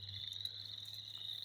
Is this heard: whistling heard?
no